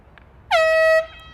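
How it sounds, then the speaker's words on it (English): An air horn ends the half of a varsity high school field hockey game with one loud, sustained blast lasting about half a second before cutting off, heard alone without talk. "As the air horn sounds, that ends the half."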